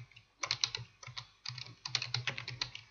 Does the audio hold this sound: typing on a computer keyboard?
yes